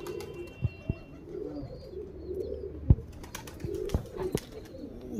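Tuniya-type pigeons coo in low, repeated rolling calls, close by, with a few sharp clicks and wing or cage knocks scattered between.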